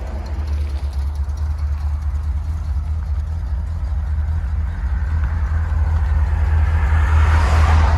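A 1979 Chevrolet Corvette Stingray with a Flowmaster 40 Series dual exhaust and turn-downs, its engine growling loud and close, building steadily as the revs climb toward the end.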